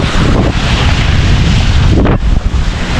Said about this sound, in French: Bon là vous allez entendre le vent